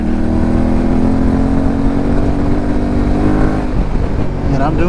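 Yamaha T7 motorcycle fitted with a Camel ADV high exhaust, ridden at about 50 mph in third gear: a loud, steady engine drone with rhythmic exhaust pulses throughout, slight throttle changes near the end.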